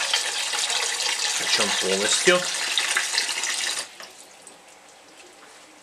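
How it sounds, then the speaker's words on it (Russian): Tap water runs hard into a pot being filled for pasta, a loud steady gush lasting about four seconds with a brief voice over it, then cutting off to a quiet room. "Наливаем столько-то воды,"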